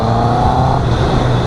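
A 2021 Honda CB650R BS6 motorcycle engine during a ride, a loud steady drone with a pitch that holds then shifts slightly as the throttle changes, heard up close with no talk.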